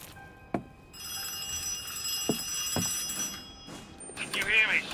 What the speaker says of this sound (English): The accursed phone again.